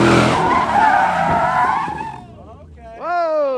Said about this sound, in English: Seemed like he was still sliding too fast there at the end.